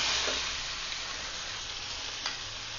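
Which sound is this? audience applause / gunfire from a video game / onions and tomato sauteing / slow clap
onions and tomato sauteing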